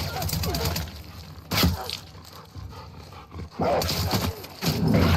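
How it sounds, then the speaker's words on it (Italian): A dog barks and yelps in the video game The Last of Us, sounding in a few loud, sharp bursts against game noise and a player's commentary. "Cane sarà pure il miglior amico dell'uomo, ma non di Ellie"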